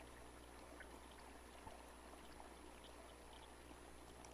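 Water flows steadily in a soft, continuous wash that stays faint and even throughout, with no voices.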